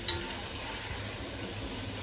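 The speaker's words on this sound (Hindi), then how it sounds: "अब इसको लाइट ब्राउन होने तक इसको हमको फ्राई करना है।" Five onions frying in a pan for Bombay-style chicken biryani, a steady soft sizzle with faint stirring, even and unbroken throughout.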